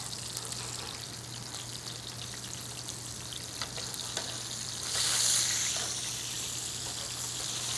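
Coconut shrimp fry in hot oil with a steady, close, bubbling sizzle, and a brief louder hiss swells midway as the pieces are turned over.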